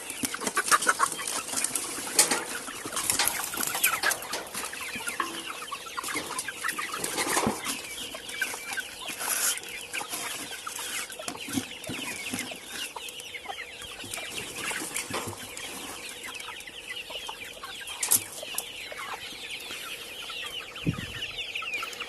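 Chickens cluck steadily across a poultry yard where young chicks, grown hens and geese are kept, with scattered squawks and the odd wing flap over a continuous busy background.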